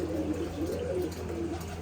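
Pigeons coo continuously in a low, throaty, warbling murmur, close and steady, alone without talk over a faint background hum.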